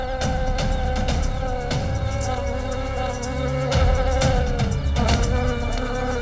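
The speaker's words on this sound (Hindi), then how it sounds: "ये तुम मधुमक्खी का छत्ता लेकर क्यों घूम रहे हो?" Bees swarm around a carried beehive with a loud, steady buzz that never stops, layered over a sustained tonal drone with no speech.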